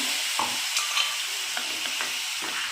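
Crab masala curry is stirred in a sizzling pan, with a continuous frying hiss and a few soft scraping strokes close by.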